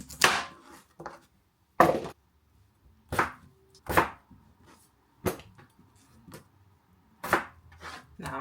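A kitchen knife cuts roasted-vegetable pieces in half and then quarters on a cutting board, sharp knocks sounding one at a time, several of them spaced out with a few quick doubled strikes and quiet pauses between.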